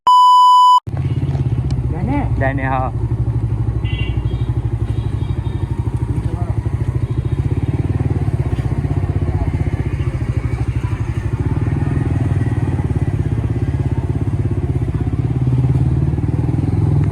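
A motorcycle engine runs steadily at a workshop where it has been brought in for a full service. A few short electronic beeps sound early on, along with light clatter, and a steady low rumble continues throughout.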